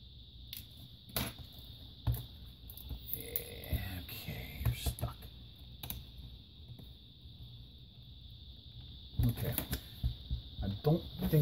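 Keyboard being pried off an HP Pavilion DV6 laptop during a teardown, with scattered plastic clicks, creaks and scraping taps, sharper bursts near the start and end, while people talk quietly in the background.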